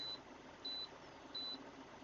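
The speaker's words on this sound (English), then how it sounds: "Once it gets out of the red, that beeping should stop." A thin, high electronic beep repeats three times at steady intervals over a quiet background hum.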